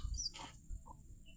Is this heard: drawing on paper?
no